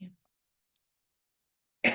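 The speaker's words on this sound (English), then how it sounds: "Apologize for all the coughing." A single short, harsh cough bursts out close by at the very end, after a faint bit of throat noise at the start and near silence between.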